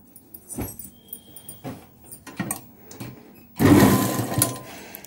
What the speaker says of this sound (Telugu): ఇలా వీడియోలో చూపిస్తున్నట్టు ఇలా స్టిచ్ వేసుకుందామండి